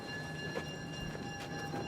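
A train rolls past in a war drama film, a steady low rumble with faint rattling of the cars, moderately distant and without talk.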